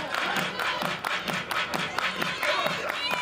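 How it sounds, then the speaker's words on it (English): A crowd at a college softball game claps in a steady rhythmic beat, several sharp claps per second, with a broadcast voice talking over it. "Everybody clap your hands."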